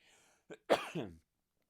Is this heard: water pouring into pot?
no